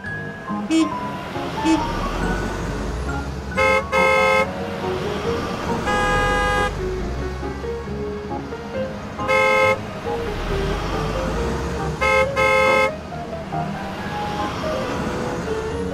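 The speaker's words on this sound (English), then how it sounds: "Car." A cartoon car beeps its horn in several short bursts of bright toots, spaced apart over a steady rumbling background.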